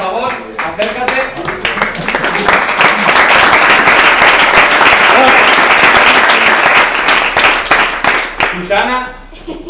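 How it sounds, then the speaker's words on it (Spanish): A conference audience at a design talk breaks into loud, sustained applause, dense clapping that builds, holds steady for several seconds and then tapers off. "Así que otro fuerte aplauso para ti."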